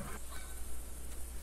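Geese honking in the hunting video game TheHunter, heard as faint, distant honks beneath a steady wash of outdoor ambience, with no talking.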